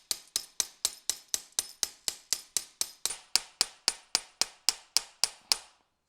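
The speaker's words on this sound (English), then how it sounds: "I actually have my wee hammer here, just going to give them a wee tappy tap in." A small hammer taps sleeves into the rear shock eyelets of a Kawasaki VN1500 Mean Streak, about twenty crisp, evenly spaced metallic taps close up, each ringing briefly before the next.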